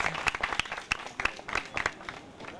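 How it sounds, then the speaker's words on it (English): Applause from a pitch night audience for an entrepreneur, a short burst of distinct, close hand claps with irregular rhythm, thinning out toward the end, with no talk over it. "Let's give Christina a big round of applause."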